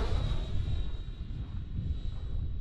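FMS Viper 70mm electric ducted-fan RC jet on a low speed pass in light wind gives a steady, fairly loud whooshing roar with a thin high whine, holding level throughout with wind buffeting underneath.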